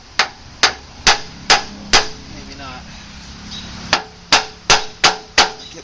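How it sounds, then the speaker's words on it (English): Sharp metallic hammer strikes on a tractor hydraulic pressure tube of a David Brown 880 Implematic, five quick evenly spaced blows, a pause, then another rapid run of five, close and loud, with a brief spoken remark in the gap. "Knocking it with a hammer or something down here."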